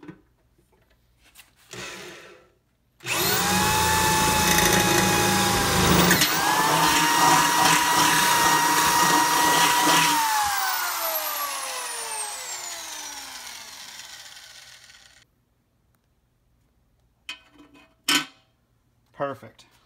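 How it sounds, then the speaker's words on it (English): A power drill spins up and whines loudly for about twelve seconds while boring a hole in a sheet metal transmission pan, then winds down, with a few clanks after. "we'll chuck up the appropriate size drill bit to make the hole big enough for this to fit through"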